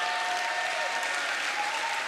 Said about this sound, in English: Come on, clap loud.